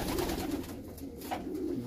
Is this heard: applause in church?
no